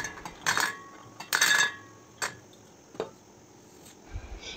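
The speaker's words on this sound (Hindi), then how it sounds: "बादाम, काजू, इसको हम कटोरी में डाल देंगे।" Almonds and cashews tipped into a small bowl, giving a few short clattering clinks in two quick bursts followed by lighter taps, fairly close with no talking.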